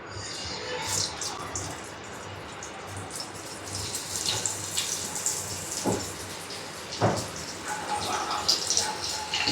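Fish sizzles in hot oil on a dosa tawa over a low flame, a steady crackling hiss with scattered pops that continues throughout.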